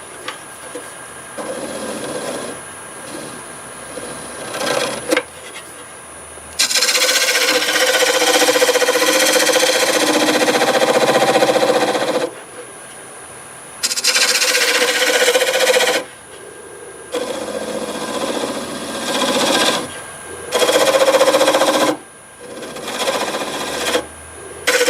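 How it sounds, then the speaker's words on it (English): A negative rake scraper works black walnut on a spinning lathe, giving bursts of loud, broadband scraping and hissing separated by quieter motor hum, close up, with no talk. "I'll grab my negative rake scraper, clean that up, and then we'll sand it."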